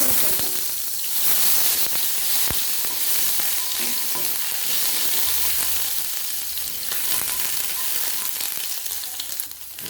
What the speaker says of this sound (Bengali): তেল গরম হয়ে আছে দিয়ে দেবো দুটো শুকনো লঙ্কা ফোড়ন আর দিয়ে দেবো কালো জিরে ফোড়ন আর দিয়ে দেবো রসুন